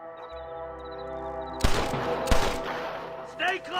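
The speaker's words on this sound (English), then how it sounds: "Good shooting, boy!" Gunfire in the video game Red Dead Redemption 2, two sharp loud blasts about a second apart cutting over a sustained musical score, followed by a brief shout-like burst.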